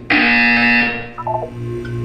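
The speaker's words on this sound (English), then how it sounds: "You will hear a buzzer." A loud, harsh electronic buzzer blares for about a second in the video game Portal 2, a flat droning tone that cuts off abruptly and is followed by a few faint synthetic blips.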